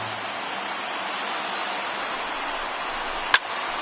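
A stadium crowd of just over 30,000 rises to its feet at a Pirates versus Cincinnati baseball game in MLB The Show 19, heard as a steady, even roar with one brief sharp click near the end.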